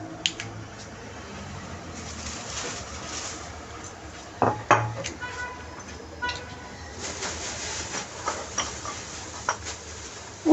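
Cauliflower florets go into a frying pan with olive oil in a home kitchen, making light clinks and soft knocks of food and utensils against the pan over a low background hiss, with some talking.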